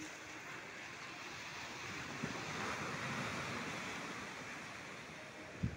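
Rough sea waves at Kamala Beach, Phuket: a continuous broad wash of surf with steady wind noise on the microphone, swelling slightly midway, with a couple of brief knocks near the end.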